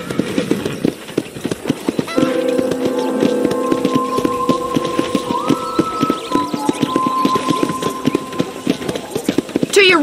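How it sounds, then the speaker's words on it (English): Steady hoofbeats of a horse trotting along in the Red Dead Redemption video game, running continuously under layered game music and background ambience, with a voice speaking over part of it. "I picked out a fine horse for you."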